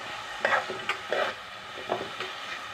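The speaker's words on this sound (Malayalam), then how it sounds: "പൈനാപ്പിൾ നെയ്ക്കകത്ത് വറുത്തെടുക്കുക" Pineapple pieces frying in ghee in a pan, with a steady sizzle broken by a few sharp stirring scrapes close up, no talk.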